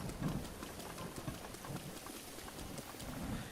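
Steady rain falling in Breath of the Wild, a soft, even patter with faint irregular thumps mixed in, moderately quiet throughout.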